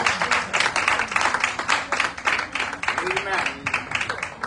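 A church congregation claps together during a Sunday fellowship service, a dense, steady patter of many hands with strong rhythmic accents, fairly close and loud, with a voice speaking over it.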